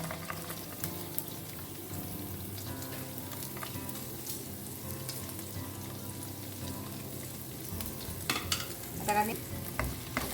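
Finely chopped garlic fries in about a spoonful of oil for a Goan prawn balchao, giving a steady, faint hiss and crackle throughout with a few sharper spits and stirring clatters toward the end.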